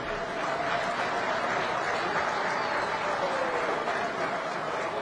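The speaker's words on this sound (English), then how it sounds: "A round of applause, ladies and gentlemen." Steady applause from a large audience, a dense wash of clapping that continues evenly, heard from a short distance.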